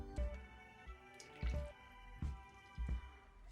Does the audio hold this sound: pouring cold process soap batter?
yes